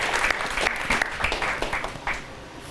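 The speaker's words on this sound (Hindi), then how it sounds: "तालियां बनती हैं यहाँ पर।" Studio audience applause during a televised Holi festival comedy and poetry programme, a short burst of clapping that rises and thins out over a few seconds at moderate volume, with no talking over it.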